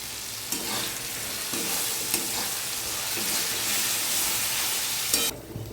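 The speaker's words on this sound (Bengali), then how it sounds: "মশলাটা ভালো করে কষিয়ে নেবো।" Spice paste for a Bengali chicken curry sizzling and frying in oil, a continuous close hiss broken by periodic stirring scrapes, ending abruptly.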